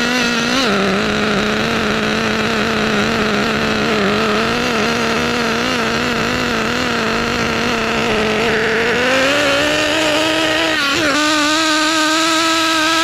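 HPI R40 nitro RC car with an OS 12TR engine warming up, a loud, continuous high-pitched buzzing whine held close by, rising in pitch toward the end as it is revved.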